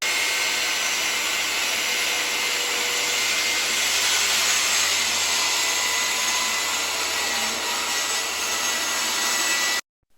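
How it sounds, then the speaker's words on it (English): A circular saw cuts through hardwood plywood, a loud, sustained whining roar held evenly for nearly ten seconds and then stopping abruptly, close by and with no voices. "run the saw blade through each subsequent work piece line of travel"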